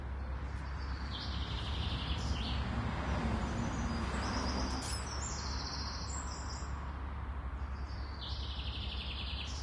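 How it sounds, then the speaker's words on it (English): Birds sing and chirp beside the River Dee at Kincorth in Aberdeen, scattered bright calls over a steady broadband wash of traffic or flowing water, with no talking. "with the birds singing"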